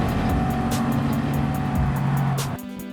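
Gr.4 Bugatti Veyron racing at Le Mans in Gran Turismo 7, a loud sustained engine note holding a steady pitch before dropping off abruptly as the throttle lifts.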